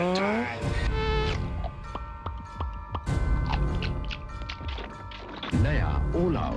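Mosquitoes buzz through a Hindi-dubbed All Out repellent advert, a thin whining drone running under voices and music with sharp whacks and crashes scattered across it.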